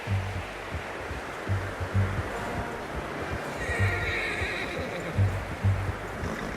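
A horse in Red Dead Redemption 2 whinnies loudly over a rushing, windy background, with hoof clops and low thuds scattered throughout; no one speaks.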